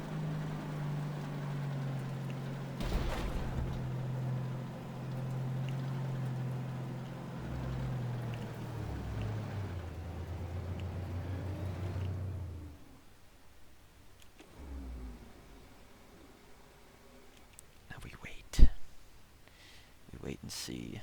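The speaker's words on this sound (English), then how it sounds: "here we're showing the maneuverability or the speed of the MBT-70. I'm gonna race off into town." An MBT-70 tank in Armored Warfare drives at speed with a loud low engine and track drone that cuts off around the midpoint, followed by quieter rumbles, scattered clicks and a sharp bang near the end.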